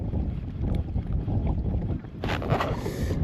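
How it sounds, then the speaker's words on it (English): Wind rumbles steadily across the microphone of a fishing kayak on open water, a loud low buffeting roar with a brief brighter splash or rustle near the end, and no talk. "The wind's gonna stay the same."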